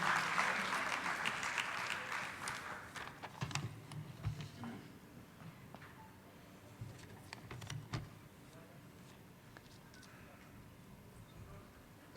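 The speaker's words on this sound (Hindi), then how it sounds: "एक बार जोरदार तालियों से स्वागत करेंगे" Applause welcoming the chief guest at a Uttar Pradesh culture department ceremony with the Shri Ram Janmabhoomi trust in Ayodhya, loud and dense at first, then thinning into scattered claps that fade away by the end.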